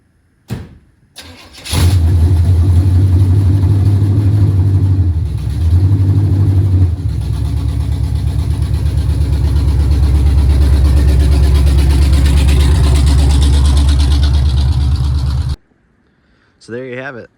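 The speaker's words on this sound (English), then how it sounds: "The Firebird drove out of the garage under its own power." A Firebird fitted with a junkyard 350 engine cranks, fires and settles into a loud, steady, rumbling run close by for over ten seconds before cutting off, with brief speech at the end.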